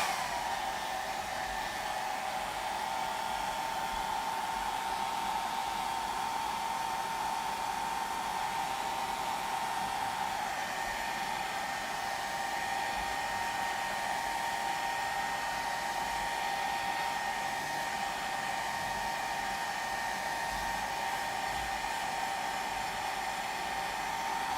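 A hair dryer blowing over a watercolor painting of a Peruvian tiger lily, a steady, unbroken whirring hum held at close range for the whole stretch, with no voices.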